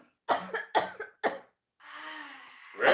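A person coughs in a close, loud burst of four or five sharp coughs, then breathes out in a long rough exhale that ends with a throat-clearing sound.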